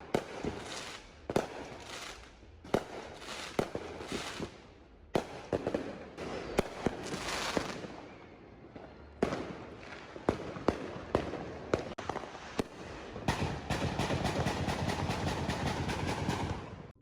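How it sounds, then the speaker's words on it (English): New Year's midnight fireworks going off outside all around, loud repeated bangs and crackling bursts in rapid irregular succession, building to a dense continuous barrage near the end. "everybody around me is shooting off fireworks"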